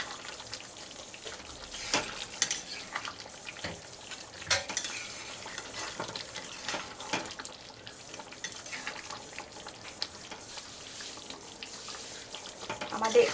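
Jackfruit curry being stirred with ghee in a pan, a soft scraping and mixing rustle with faint sizzling, steady and close, with no talk over it.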